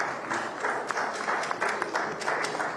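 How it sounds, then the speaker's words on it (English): An audience at a town hall event claps steadily, a dense patter of applause at moderate loudness filling the whole stretch without pause. "So the round of applause again for News Central Television."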